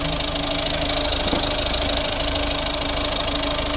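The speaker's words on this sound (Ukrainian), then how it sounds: "Ось робота двигуна." The 1.6-litre diesel engine of a 2011 Mazda 5 with manual gearbox idles close by with a steady, knocking clatter and constant low rumble, unbroken and without voices.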